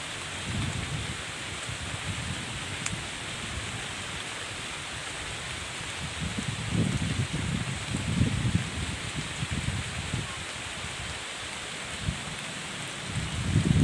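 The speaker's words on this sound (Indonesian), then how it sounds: "Hujannya lebat sekali." Heavy rain pours steadily outdoors in a village while people shelter under a large tree near the sea, a dense continuous hiss with louder swells and no voices.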